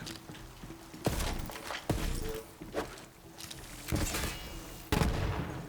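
A newly picked-up weapon fires in the video game Borderlands: a handful of loud, separate shots spaced about a second apart, each a sharp crack with a short tail, over quieter game background noise.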